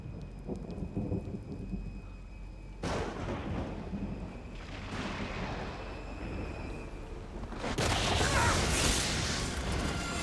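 Steady rain in a video game storm from Indiana Jones and the Great Circle, broken by two sharp thunder cracks with rolling rumble, the last one loud and close.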